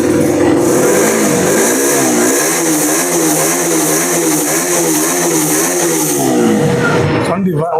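KTM Duke 125 motorcycle from 2019, BS4 model, engine revving loud and close with rising and falling pitch sweeps, then cutting off at the end; a voice talks over it.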